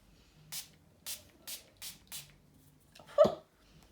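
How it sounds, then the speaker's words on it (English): Five short, soft hissing spritzes of face mist spray come at an even pace, followed by a brief louder rustle or gasp; otherwise the surroundings are quiet. "That is a strong spray."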